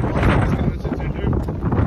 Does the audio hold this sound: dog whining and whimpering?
no